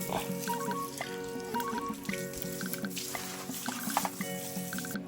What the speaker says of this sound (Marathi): गौरीला धुवून झालेलं आता पप्पा तिला पाणी पाचतायत